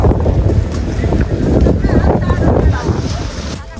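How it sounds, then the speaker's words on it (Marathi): Strong wind blows across hilltop Raigad Fort near the Shirkai Devi temple, roaring and buffeting hard and close throughout. A voice is partly heard beneath the gusts. "वारा हे एवढ्या जोराचा चालू आहे"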